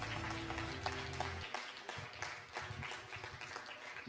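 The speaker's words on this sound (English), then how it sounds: "Let's have a round of applause for them, parents" Parents clap for young graduating students at a preschool graduation ceremony, a dense patter of applause from a crowd that holds steady, with a low hum under the first part.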